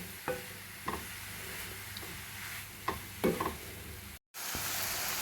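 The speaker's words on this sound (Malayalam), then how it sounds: "ഇനി ഇതെല്ലാം നല്ലപോലെ മിക്സ് ചെയ്തിട്ട് 2 മിനിറ്റ് ഒന്ന് അടച്ചു വെച്ച് നമുക്കൊന്ന് വേവിക്കാം" Drumstick stir-fry (muringakka thoran) cooking in a pan, heard as a soft sizzle under scattered light scraping and tapping from stirring, with a short gap near the end.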